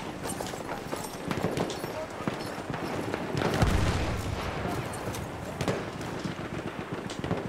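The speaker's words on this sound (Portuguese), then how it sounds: "O cavalo." Horse hooves pound in a rapid galloping rhythm during Battlefield 1 beta gameplay, mixed with gunfire and explosions while someone talks over the action.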